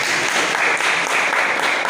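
Audience at a seminar applauding, a dense steady wash of many hands clapping that fills the whole moment without a break.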